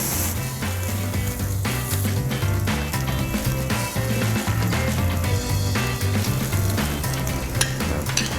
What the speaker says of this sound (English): See that sizzle there?